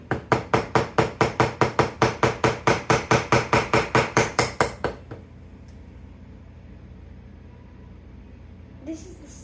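Rapid, steady hammer blows drive a nail about twenty times in a row while building a jewelry shelf, loud and close, then stop, leaving quiet room noise.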